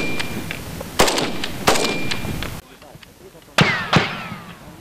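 Border guards fire weapons during a military training exercise: four or five sharp, widely spaced shots ring out over a background of talk.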